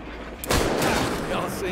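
A sharp gunshot from the video game Hard West 2 bursts out, followed by a dense, sustained rumble of game noise and voices talking over it.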